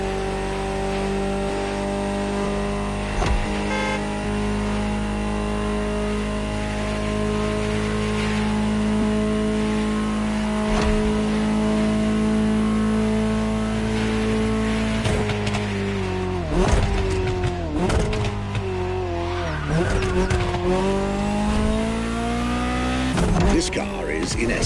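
Ferrari 308 GTO in the racing game The Crew Motorfest, engine droning steadily while cruising, then revving and shifting through gears with rising and falling pitch near the end, accompanied by soft background music.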